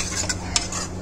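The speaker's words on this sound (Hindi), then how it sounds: "अभी आप इसे अच्छे से मिलाइए, धीमे आंच पे आपको पकाना है" Chicken mixed with yogurt is stirred in a pan over low heat for a bhuna chicken dish, giving a brief close sizzle with quick scraping strokes and a small clink.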